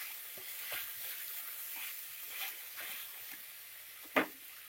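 Ginger-garlic paste sizzles quietly in a pan for chicken fry, a soft steady crackle broken by a few spoon scrapes and one sharper clink near the end, with no voices.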